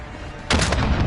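A single loud gunshot from a sniper rifle in a video game cracks out suddenly and then rings into a sustained, noisy tail.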